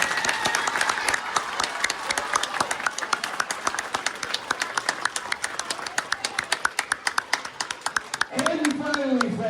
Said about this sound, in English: give a big round of applause to Mr.